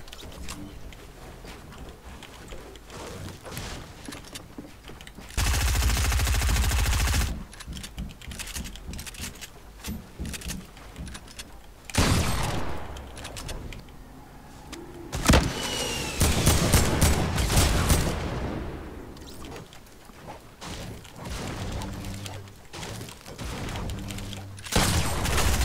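Fortnite Battle Royale gunfire in rapid, loud bursts of shots, separated by quieter stretches of clicking and game noise.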